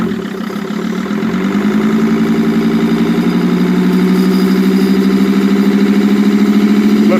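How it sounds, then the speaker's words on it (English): A 2005 Sprinter van engine with a stalling problem, running loud and close, its drone rising steadily in pitch as it revs up over several seconds, with no voices. "Rev it a little bit."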